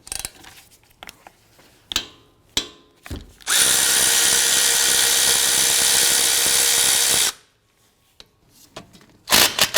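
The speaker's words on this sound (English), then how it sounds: "We're going to remove our slider pin bolts here." A power tool with a 14mm socket removes the brake caliper slider pin bolts on a 2004-2008 Acura TL: a few short bursts, then one loud sustained whir of about four seconds, stopping abruptly before more brief bursts.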